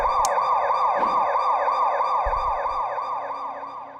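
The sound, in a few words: police sirens in a video game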